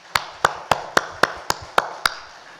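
A church congregation claps together for members' birthdays: eight sharp claps in a steady, even rhythm, each one crisp and fairly loud, with no talking.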